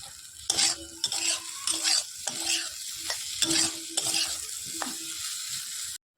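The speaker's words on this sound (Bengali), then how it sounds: "চলো একটু ভালো করে কষিয়ে নিই" Soybean chunks sautéing with ginger, cumin and garlic in a pan, a steady close sizzle broken by repeated scraping stirs and clinks of a spoon against metal, with no one talking.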